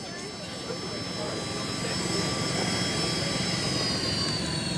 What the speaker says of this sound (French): Vous entendez sans doute la turbine.